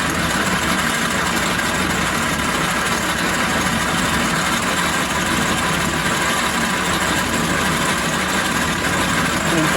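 Logan 210 metal lathe with a new 4 jaw chuck running at about 375 RPM, a steady, loud, even motor hum and drone with no breaks.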